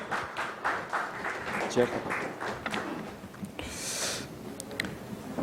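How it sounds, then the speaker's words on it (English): Audience applause at a leadership summit panel session, a moderate spread of clapping mixed with tapping and thuds, with a voice speaking over parts of it. "Give him a big round of applause."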